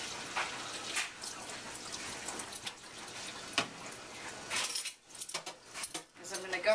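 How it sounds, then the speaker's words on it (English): Running water rinses yarn-dyeing equipment, a steady near splash and trickle with occasional clinks of pots or utensils and a brief pause near the end. "let me rinse everything out here real good"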